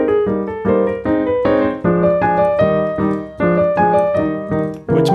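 Piano plays a rewritten version of the opening theme of Beethoven's Piano Sonata No. 1, first movement, in a run of rhythmic repeated chord figures grouped into short phrases, close and loud, with no speech.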